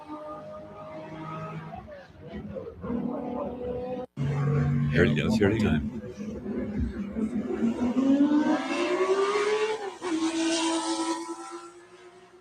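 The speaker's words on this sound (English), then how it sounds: "Some people have called it the most demonic sounding engine ever made." A flat-plane-crank car engine revs up loudly, its pitch climbing steadily before dropping back, with people talking over it at the start and a sharp hard cut partway through.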